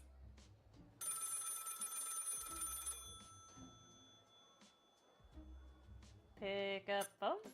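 Telephone ringing in the video game Lil' Guardsman, a bright electronic ring for about two seconds among quiet clicks and small sounds, followed by short tonal game blips near the end.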